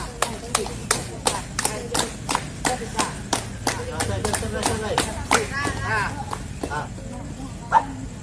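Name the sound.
clapping hands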